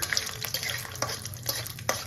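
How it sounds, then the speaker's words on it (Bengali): Peanuts frying in hot oil in a pan while street-style chowmein is made, a steady close sizzle broken by irregular stirring clatters and scrapes. "বাদামটা ভেজে নিই।"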